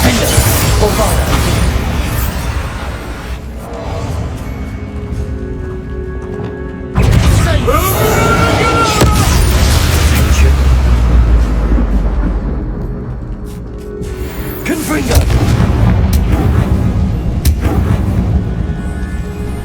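Confringo blasting-spell explosions in Hogwarts Legacy, heavy booming blasts and crashing impacts that rumble on through game music and a spoken incantation.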